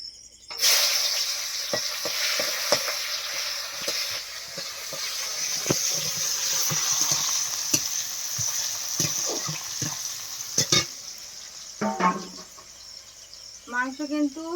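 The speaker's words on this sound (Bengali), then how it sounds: "কড়াই পেঁয়াজ দিয়ে দিচ্ছি" Onions sizzling in hot oil in a wok for a home-cooked chicken curry, a steady bright hiss with scattered clicks of stirring throughout, ending in a few louder scrapes.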